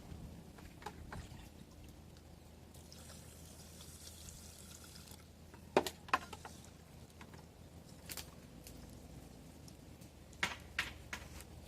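Water pours over flattened rice in a cooking pot, a soft steady trickle with a few brief splashy clinks, near and moderately quiet.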